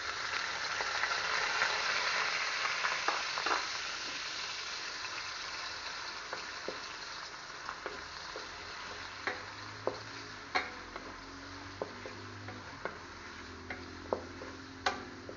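Onion, garlic and ginger fry together in a pan, a gentle continuous sizzle broken by sharp scraping taps of a utensil stirring at irregular intervals, no talk.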